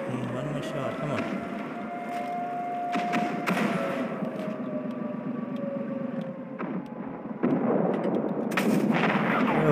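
Tank cannon fire in World of Tanks Blitz with a KV-1 tank, sharp loud blasts around 3, 3.5 and 9 seconds over a steady engine drone and battle noise.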